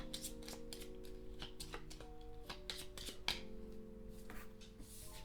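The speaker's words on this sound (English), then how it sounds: "Now it's back to me, and I do have to shuffle." Playing cards being shuffled during a solo playthrough of the Mycelia board game, a quiet run of soft riffling and snapping card sounds close by, with faint background music underneath.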